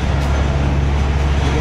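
Steady, loud low rumble of road traffic slowed by construction in Vancouver, with engine drone from buses and cars close by, continuous throughout with no voices.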